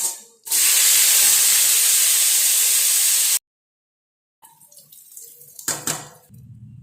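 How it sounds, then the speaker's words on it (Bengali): Potatoes drop into hot oil in a pan and fry with a loud, bright continuous sizzle for about three seconds, then cut off; softer clinks and handling noises follow. "এখন আলুটা ভেজে নেব। এখন আলুটা দিয়ে দিচ্ছি।"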